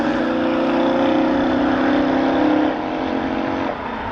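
A motorbike races past a car in a side-by-side run, a loud, steady engine drone holding strong before dropping away as it passes, with no talk over it.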